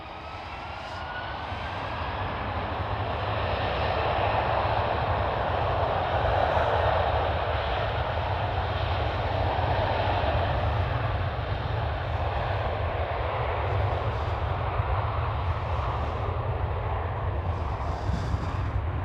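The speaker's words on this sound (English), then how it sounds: "There goes Delta Airlines A330." A Delta Airlines Airbus A330 flies past at Amsterdam Schiphol, a loud, steady jet roar that swells and holds for the whole stretch, broad and rumbling with a faint whine on top, with no talk over it.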